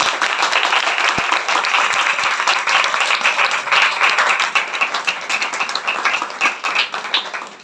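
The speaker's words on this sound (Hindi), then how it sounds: "एक बार अपने लिए, ओ खुदा बाप के लिए जोरदार ताली" A large audience at a religious talk claps loudly and continuously, a dense roar of hands that stays strong for the whole stretch, with a few sharper claps poking through.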